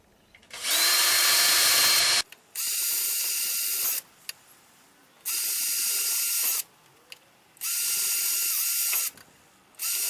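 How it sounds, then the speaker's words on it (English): A power drill drilling holes in plastic tubing whirs in four separate bursts of a couple of seconds each, with brief quiet pauses between them, loud and close. "And we'll just drill a few more."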